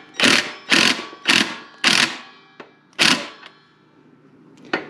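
Rear axle nuts on a Coleman BT200X minibike are loosened with a tool, giving five loud close ratcheting bursts in a fairly even rhythm, then a few sharp clicks and one last burst.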